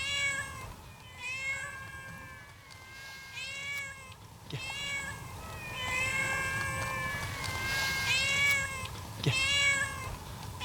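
A domestic cat meows repeatedly, several drawn-out, plaintive calls spaced a few seconds apart, close by over quiet background noise.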